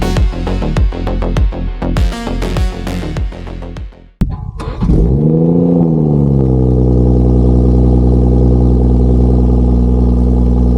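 BMW 340i with a B58 engine and MHD tune: a run of sharp mechanical clicks and knocks, then a loud, close engine starting up and settling into a steady, droning idle.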